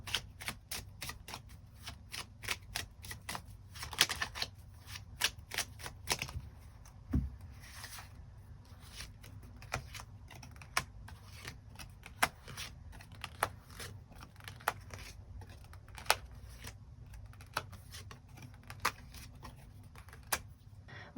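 Tarot cards being shuffled and drawn, a run of soft, irregular clicks and flicks of card stock at close range, with a brief riffle about a third of the way in and no talking.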